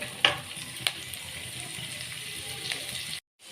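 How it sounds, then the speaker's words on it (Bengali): Chopped onion fries in a pan for homemade fish chops, a steady close sizzle with a couple of sharp stirring clicks, ending abruptly. "পেঁয়াজ কুচিটা একটু লাল লাল হবে, লাল লাল করে ভেজে নেব এটাকে।"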